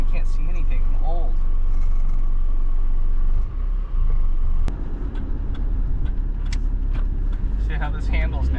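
A Nissan Be-1 car driving at night, heard from inside as a continuous low engine and road rumble with occasional clicks and rattles, while a person talks over it.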